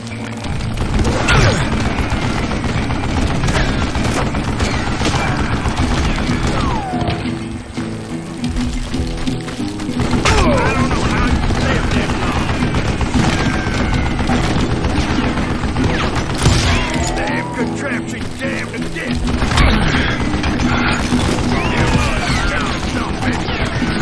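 Western-style gunfight in Call of Juarez Gunslinger, with repeated gunshots, booms and crashes spread across a long, loud stretch, shots coming in clusters amid a busy mix of game effects.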